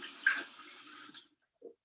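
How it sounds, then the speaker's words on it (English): A paintbrush swished in a water cup, a short close burst of sloshing and trickling that fades, then a small tap, with no speech. "I'm going to rinse off my paintbrush."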